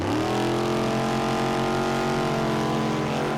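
A supercharged nitromethane dragster engine running at a sustained, very loud, dense roar with steady harmonic tones, close and continuous throughout.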